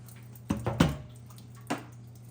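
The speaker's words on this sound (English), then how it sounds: "Kind of let that drain out." Water draining and dripping from a freshly cut water pipe during a plumbing job, a few quiet wet splashes and drips over a steady low background hum.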